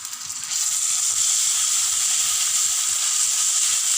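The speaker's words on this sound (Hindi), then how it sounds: "इतनी देर में हमारा ये गार्लिक और जिंजर हमारा फ्राई हो गया" Garlic and ginger frying in a pan for black pepper chicken, a steady loud sizzle and hiss that swells after a brief quieter start and holds evenly throughout.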